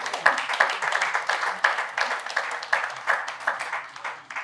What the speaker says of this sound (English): Thank you for your rounds of applause